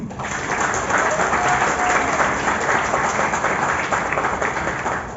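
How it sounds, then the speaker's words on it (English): Steady, dense applause from an audience at a film trailer launch event, filling the whole stretch at a constant loud level with no talk. "So please, a big round of applause for him."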